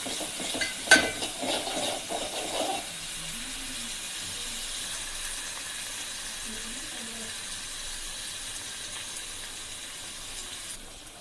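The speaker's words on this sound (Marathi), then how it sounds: "कांदा टोमॅटोची पण पेस्ट ऍड करून घ्यायची. छान तेल सुटेस्तोवर परतायचं याला." Onion and tomato paste sautéing in hot oil for egg curry, a steady soft sizzle running throughout after a few brief clinks and stirring sounds at the start.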